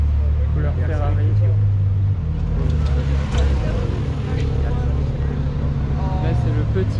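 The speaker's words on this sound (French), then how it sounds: "Oh, le son du V12" A Ferrari V12, such as an 812 Superfast, rumbles loudly and steadily at a Monaco cars-and-coffee gathering, its deep engine drone continuous and close over busy street and crowd noise.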